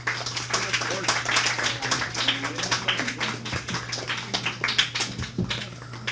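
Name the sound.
audience applause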